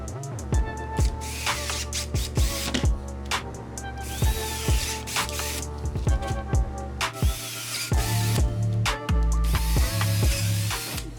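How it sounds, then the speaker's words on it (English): A power drill boring push pin holes through a plastic fender flare for a Kawasaki KRX 1000 UTV, with whirring motor and repeated sharp clicking and grinding bursts, close and continuous. "Now we're just gonna drill out the push pin holes."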